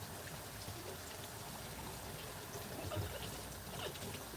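Hot tap water runs steadily into a clean new jar, a continuous close trickle and splash with a slight swell near the end, no talking.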